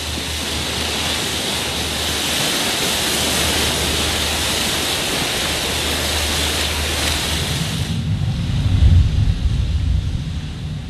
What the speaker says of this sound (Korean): 수백, 수천만 번을 밀려온 파도가 육지에 부딪혀 만들어낸 장관이 펼쳐집니다.